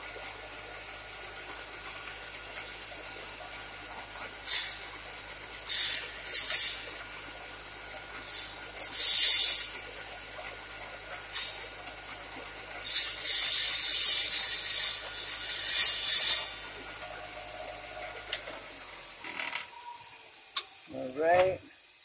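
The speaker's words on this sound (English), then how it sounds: "Now, I'm going to make that a little smoother on the inside." The inside edge of a small cut tile is smoothed with light pressure, making short bursts of gritty rasping in an uneven series of strokes with quiet gaps between, and a brief voice at the very end.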